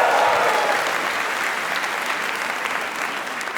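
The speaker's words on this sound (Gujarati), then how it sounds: "તો તાળીઓ થઈ જાય એક વખત જોરદાર." An audience at a Gujarati comedy talk show breaks into loud, sustained applause. The clapping is dense and close, then fades slightly toward the end.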